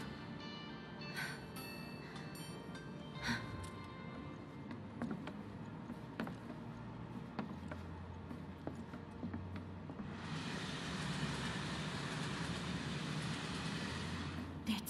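A train rolls along in Final Fantasy 7 Remake with a steady, low mechanical rumble and occasional metallic clanks. The noise grows brighter and hissier in the last few seconds.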